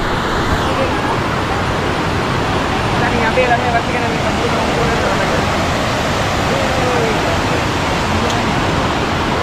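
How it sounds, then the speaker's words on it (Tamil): A small waterfall along a road trip toward Athirappally, a loud steady rush of falling water filling the scene throughout, constant and close with no breaks. "இதுதான் அந்த வாட்டர் ஃபால்ஸு"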